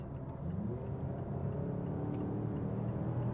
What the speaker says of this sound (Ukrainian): я легесенько торкаюся до педалі акселератора, і автомобіль вже пришвидшується